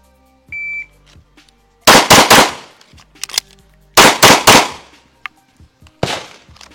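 A shot timer beeps, then loud, close gunshots crack in a timed shooting drill: a quick burst of three, a pause for a reload, another rapid trio and a final shot, with faint clicks between strings.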